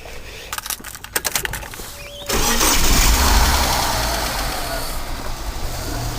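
A Ford EF Falcon engine with an idle fault cranks over with rapid clicking starter bursts, then catches and settles into a loud, steady idle close to the microphone.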